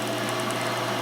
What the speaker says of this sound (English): speed the lathe up a little bit